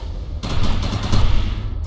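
Rapid automatic gunfire from the video game Defiance, fired at holograms with the overcharge power active, a loud dense rattle that starts abruptly after a brief lull and continues steadily with no talking over it.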